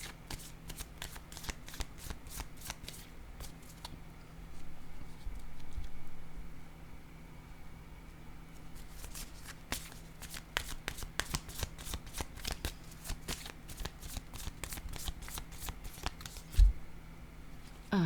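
Tarot cards are shuffled in crisp, rapid riffling bursts and then laid down one by one with soft slaps and taps, close and quiet, with almost no talk.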